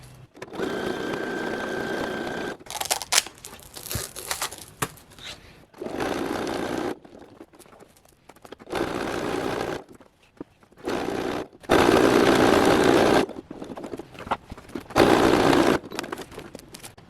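A sewing machine runs zigzag stitches along a costume belt for a Genesis Climber MOSPEADA Ride Armor in repeated loud bursts of rapid mechanical whirring, with short quiet pauses in between.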